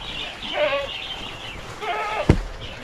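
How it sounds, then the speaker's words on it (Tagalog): A goat on a Filipino farm bleats twice in wavering, nasal calls, the second louder and followed by a sharp thump, with faint background noise between. "Yung kambing sumunod."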